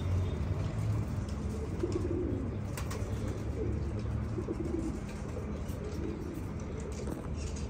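Pigeons cooing softly in a rooftop coop, low repeated calls over a steady background hum, faint and continuous.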